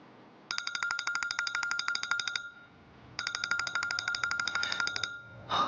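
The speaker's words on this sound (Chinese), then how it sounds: "公司的电话，我出去接一下。" A company phone rings with the trilling double burst of a classic telephone bell, two bursts of rapid clattering rings separated by a short pause, loud and close indoors.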